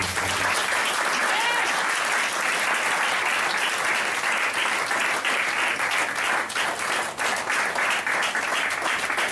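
Loud, sustained applause from a church congregation praising Jesus during a French-language deliverance service, dense and continuous clapping with crowd noise filling the room throughout.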